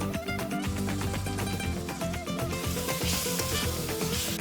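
Tomato paste, turmeric and Kashmiri chilli powder fry in oil for a jackfruit curry, a continuous close sizzle with tonal music playing underneath.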